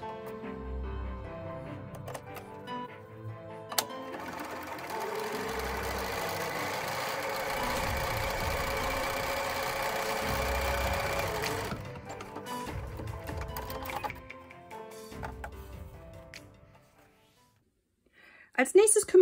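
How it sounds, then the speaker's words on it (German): A sewing machine topstitches the top edge of a fabric pouch, running in a continuous steady whir for several seconds between shorter bursts and pauses, close and without talk. "dann steppt ihr oben die Kante noch einmal ab"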